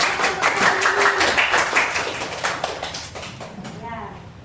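A classroom group of students gets applause, with a steady patter of many hands clapping that fades over several seconds under light chatter.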